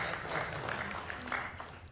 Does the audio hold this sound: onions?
no